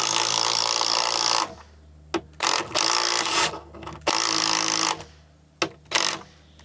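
A ratchet socket wrench works on a deer being processed, whirring loudly in a long burst, then several shorter, choppy bursts separated by brief pauses.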